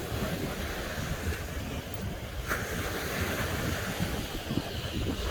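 Ocean waves on the beach at Bal Harbour, Miami, heard as a steady, loud wash of surf mixed with heavy wind buffeting the microphone throughout.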